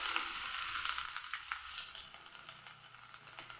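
Chopped garlic and ginger frying in hot oil with mustard seeds in a pan, a continuous bright sizzle with faint crackles, close and quiet, no talking.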